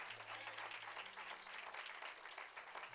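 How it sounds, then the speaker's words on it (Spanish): Congregation applauding during a church worship service, a steady, dense wash of many hands clapping together at moderate distance, with a low sustained musical tone underneath. "Vamos, denle ese aplauso de júbilo a Cristo"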